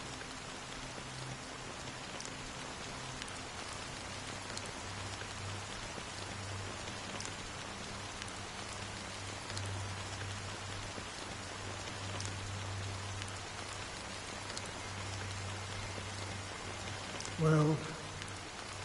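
Steady rain falls throughout a scene from the video game Honkai Star Rail, an even wash of hiss with a low ambient hum beneath and one brief chime near the end.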